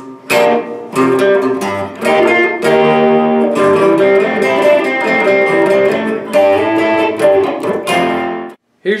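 Guitar playing the second transition riff of a funk tune, a busy rhythmic pattern of choppy strummed chords and fills, loud and close with no talking.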